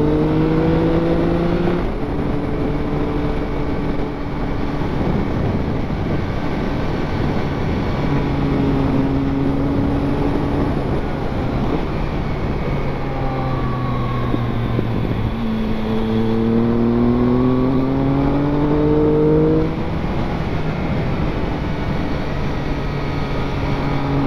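A Triumph Speed Triple 1050 motorcycle is ridden, its engine droning and rising and falling through gear changes and revs, loud and continuous under steady wind rush.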